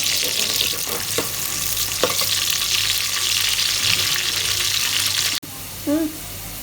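Steady frying sizzle of onions browning in a pan, loud and continuous, with a few stirring scrapes and a brief clatter near the end.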